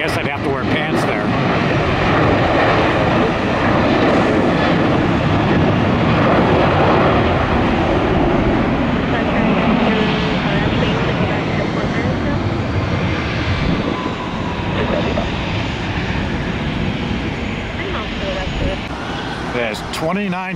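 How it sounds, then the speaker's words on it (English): A jet airliner powers up for takeoff from runway one left at Tampa, a steady, loud, broad engine roar sustained throughout, heard up close under occasional talk. "As 29-24 gets ready to blast off a one left for the world's busiest airport, ATL."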